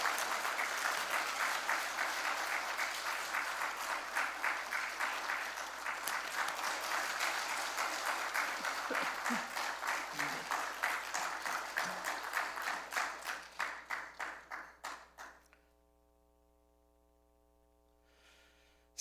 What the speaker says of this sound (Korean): 큰 박수로 우리 환영해서 모시도록 하겠습니다.